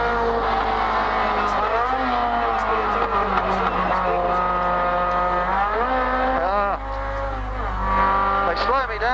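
A race car on the Bathurst circuit in the 1980 Hardie-Ferodo 1000 roars loudly and close, its engine note climbing and dropping through repeated gear changes, with a deep steady drone underneath and a voice talking over it.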